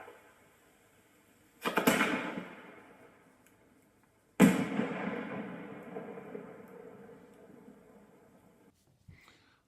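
50 mm firework shells fired in a pyrotechnic product demonstration in France: two sudden loud bursts a few seconds apart, each trailing off into a long fading rush.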